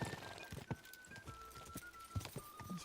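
Horse hooves clop rapidly in a galloping rhythm in the video game Kingdom Come: Deliverance 2, a string of quick, fairly quiet thuds with a faint tone running under them.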